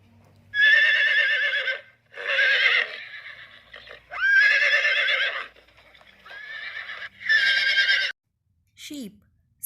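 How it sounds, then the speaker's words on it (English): A horse whinnies in several loud, shrill bursts with wavering pitch, separated by short gaps, ending with a brief lower snort-like call. "Sound of horse is neigh."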